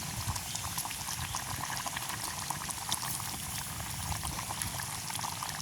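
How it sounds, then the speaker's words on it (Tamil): A pot of village-style onion curry at a rolling boil gives a constant dense bubbling and hissing, close and even throughout with no voices. "நல்லா கொதிச்சுட்டு கறி கொதிச்சு கொண்டு இருந்து மாதிரி"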